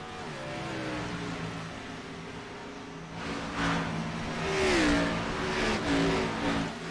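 Race car engine revving and shifting as it drives through turn 1 at Watkins Glen, the tone rising and falling with gear changes, moderately close, with other cars audible behind.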